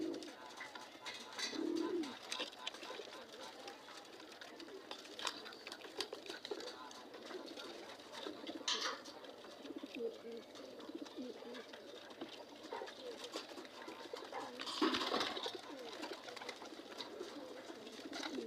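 Soft pigeon coos drift through a quiet, open space, with faint bird calls and occasional distant voices in the background.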